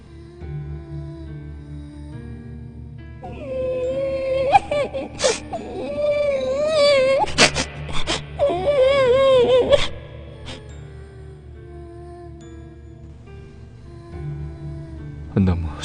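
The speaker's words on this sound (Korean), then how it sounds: "애기가 젖을 달라는 것 마냥 막 울어대는 것이다" A woman wails like an infant crying for milk in a Korean horror radio story, rising and falling moans and whimpers in the middle of the clip over a steady musical drone, loud and close.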